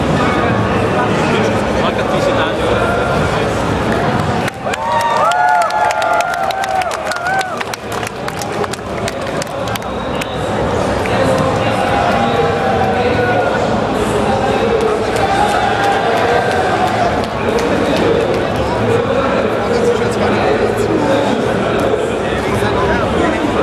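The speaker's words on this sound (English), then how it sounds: "I need to take a couple pictures of this amazing crowd." Large crowd at a GamesCom gaming convention booth, a dense hubbub of many voices with scattered cheering and clapping, loud and continuous throughout with some talk mixed in.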